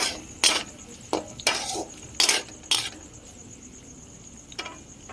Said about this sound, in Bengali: ক্যাপসিকামটা ভেজে নেব। লাল লাল করে ভেজে নেব।